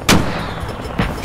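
Igla shoulder-fired missile launch and gunfire in a military video game set in Takistan: two loud, sharp blasts about a second apart, the second followed by a shorter burst, with no talking.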